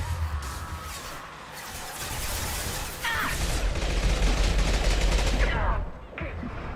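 Gunfire in the video game Mass Effect, loud bursts of shots and crashing impacts over a constant noisy battle din, with a voice talking through it.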